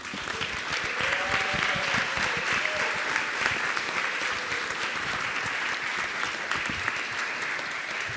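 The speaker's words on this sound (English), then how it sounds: "One big applause for LG." Steady applause from an audience fills a council meeting of a general assembly, dense clapping at a moderate level lasting several seconds without a break.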